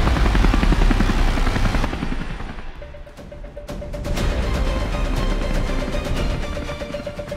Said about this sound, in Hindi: MI-17 ने उड़ान भरी।